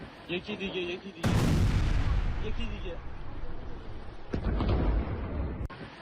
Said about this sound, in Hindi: ईरान के कई शहरों में एयर स्ट्राइक हुई है, तेहरान समेत कई इलाकों में दर्जनों धमाके हुए हैं।